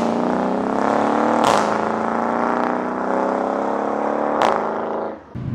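Mercedes-Benz W218 CLS63 AMG accelerating hard under a steady engine drone that climbs in pitch, broken by two sharp upshift cracks a few seconds apart, heard from inside the car.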